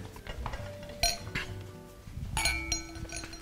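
Drinking glasses clink and rattle as they are gathered up in a home kitchen, several bright chinks spread irregularly across the clip, moderately close with a dull background clatter.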